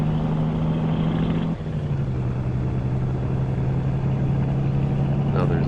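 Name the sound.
different truck engine driving by in a farming video game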